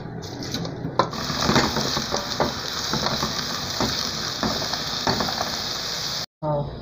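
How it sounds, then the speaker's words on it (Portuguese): Soaked rice sautés in a pan with chopped garlic and carrot, giving a steady, close sizzle with scattered clinks and stirring scrapes. The sound cuts out briefly near the end. "Deixei ele de molho meia hora e agora vou refogar"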